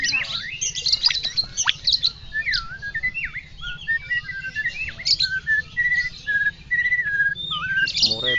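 A white-rumped shama (murai batu medan bahorok) sings close by, alone: a long run of varied whistles, sweeping chirps and repeated clear notes at a lively, steady pace.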